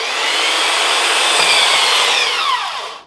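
A belt sander runs loud and steady against wood, a continuous close abrasive whine that holds, then winds down and tails off at the end.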